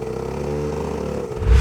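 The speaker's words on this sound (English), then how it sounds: "The engine starting, really amazing." A vehicle engine revs under throttle, its steady droning hum holding close and loud before surging sharply louder at the end.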